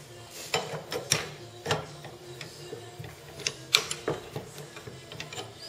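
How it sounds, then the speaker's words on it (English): Wrench work on bicycle pedals still mounted on the bike, a series of irregular metallic clicks and ratcheting taps, fairly close and moderately quiet, with a faint background hum. "let's take the pedals off first while it's on the bike"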